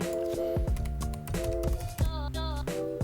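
Computer keyboard typing as a stop loss value is entered in a trading platform, with steady close clicking keystrokes over a tonal musical background.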